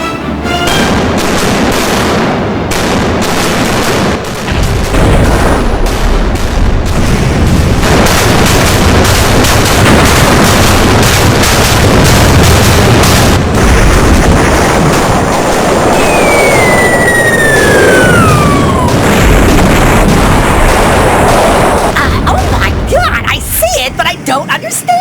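Dense, heavy booming cannon fire and explosions pound almost continuously, loud and chaotic, with a whistling streak passing overhead near the end.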